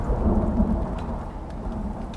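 A deep, rolling thunder rumble from a lightning strike during a storm in the survival game Icarus, loud and sustained under steady rain with no talk.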